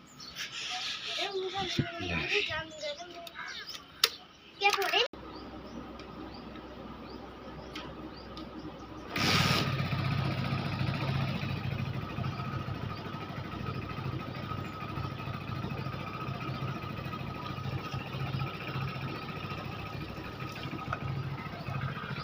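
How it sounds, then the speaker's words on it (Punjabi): Someone talks briefly, then after a quiet gap a motorcycle engine fires up close by and settles into a steady, rumbling idle that continues to the end. "ਮੋਟਰਸਾਈਕਲ ਸਟਾਰਟ ਕਰੀਏ"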